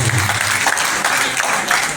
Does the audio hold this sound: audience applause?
yes